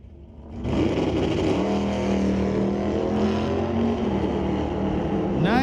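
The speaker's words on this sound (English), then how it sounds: "Nice wheels up launch by the Camaro in the TCS lane." A Camaro makes a wheels-up launch in the TCS lane at an NHRA Northwest National Open Series drag race at Mission Raceway, its engine roaring loud and steady as it pulls down the track, with the pitch climbing and settling.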